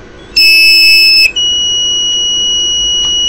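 A buzzer on an ESP32 project blares a loud, steady electronic tone for about a second, then drops to a quieter continuous whine that holds to the end.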